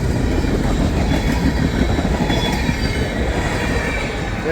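CSX mixed freight train carrying Pan Am boxcars rolls steadily past nearby, a loud continuous rumble of rail cars with clattering wheels and faint squeals, no voices.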